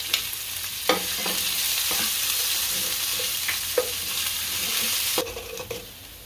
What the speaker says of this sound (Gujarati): આને પેલા તળીને કકડાઈ દેવું હાલો.